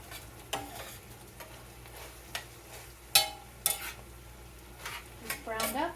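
Food cooking down and browning in a pan on a stove, with soft continuous sizzling and scattered clinks and scrapes of a utensil against the pan.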